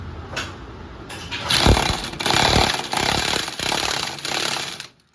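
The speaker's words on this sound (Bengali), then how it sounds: "আমি মেশিনের সাথে টাইট করে নিচ্ছি।" A power tool whirs in loud bursts while tightening the clutch assembly of a Honda Activa scooter in a workshop, several sustained runs of a few seconds each, close by, with a short lull before the first burst.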